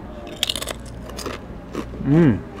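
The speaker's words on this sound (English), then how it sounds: "Let me try the chips first." Crisp crunches of biting into house-made potato chips at a restaurant, a cluster of sharp cracks close to the microphone followed by a short vocal sound.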